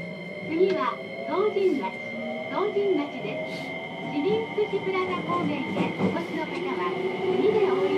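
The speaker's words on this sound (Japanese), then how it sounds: "一番乗り場から電車が発車します。" A JR 303 series electric train hums and whines as it pulls away from platform 1, under a Japanese platform announcement, with a steady tonal drone rising in the background.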